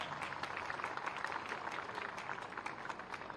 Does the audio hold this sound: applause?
yes